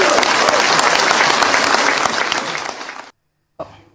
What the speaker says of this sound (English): That was a beautiful round of applause there, Ayo.